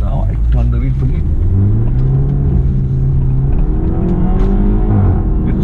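A BMW F30 LCI 320i engine hums and revs under load as the car turns aggressively, a loud, close, rising drone with talking over it.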